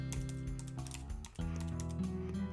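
Rapid, close clicking of a computer keyboard fills the clip as someone types code in an Excel VBA editor, with a brief pause in the middle and no speech.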